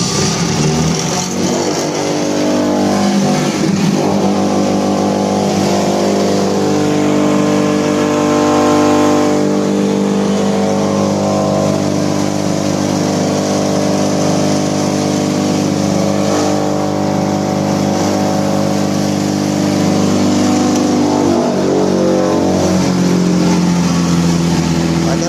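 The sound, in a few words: vehicle with Ariol 6.5 kW motor running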